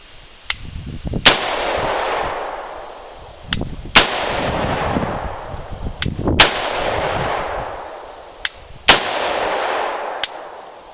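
A semi-automatic rifle fires single shots at intervals of about two to two and a half seconds, each sharp loud crack followed by a long rolling echo outdoors, with fainter distant reports between.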